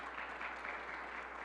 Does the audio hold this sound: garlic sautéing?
no